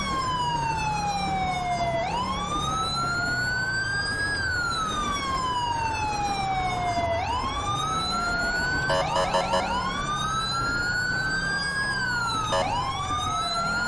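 Police and ambulance sirens in the GTA 5 video game wail in repeated rising and falling sweeps, loud and continuous, over a low engine drone as a presidential escort convoy drives along.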